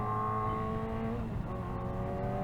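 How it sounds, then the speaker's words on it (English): A Kawasaki Ninja ZX-4RR engine drones at steady high revs, then the pitch dips briefly as the rider shifts gear with the clutch instead of the quick shifter, and the revs climb again, loud and close. "I'm gonna shift without the quick shifter here"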